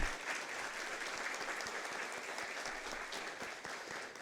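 Audience applause at a municipal chamber event in São José, honouring city councillors: dense, steady clapping from a crowd, fairly loud and continuous, with no talk over it.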